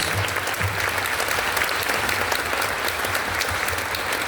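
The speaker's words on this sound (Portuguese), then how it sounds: "Agora nós vamos aplaudir a presença de Jesus no meio de nós" A church congregation applauds during a Holy Year pilgrimage gathering, a loud, dense, steady roar of many hands clapping with no break.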